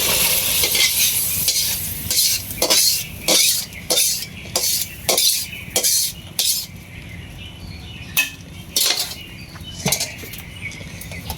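Cooked curry being lifted off a home stove, with a run of sharp metallic clanks and scrapes of pot and utensils, close and loud, coming in irregular bursts with short pauses between them.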